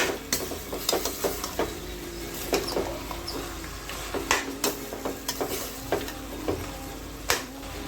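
A spoon stirs red chilli and coriander powder into parsley chicken gravy in a pan, giving irregular scraping clicks and taps over a faint continuous sizzle, close by with no talking.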